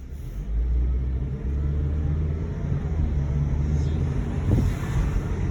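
A 2009 Honda Civic that has been in an accident drives along, producing a steady, close engine rumble and road noise with mild revving throughout.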